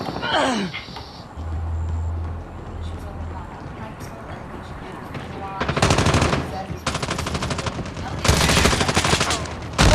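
Rapid automatic gunfire in a video game, long sustained bursts of machine-gun fire in the second half, loud and close, with spoken voices and game sounds earlier on.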